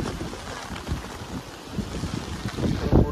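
Strong wind and rain buffet a hilltop lookout at Panorama Point in Matheran, a steady roaring gust noise with rumbling bursts that swell louder near the end, close to the microphone under an umbrella.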